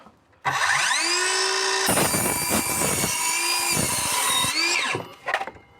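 An Einhell cordless circular saw spins up with a high whine, then bites into material for several seconds of loud continuous cutting with rough grinding texture, before winding down and stopping near the end.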